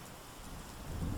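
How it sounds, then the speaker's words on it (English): Rain falls steadily onto concrete as a soft, continuous wash of patter, with a low rumble swelling toward the end, moderately quiet and without voices. "let the soothing sound of rain hitting the concrete fill the air"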